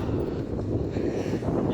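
Steady outdoor wind in Fuerteventura in the Canary Islands, a continuous low roar buffeting the microphone with no break.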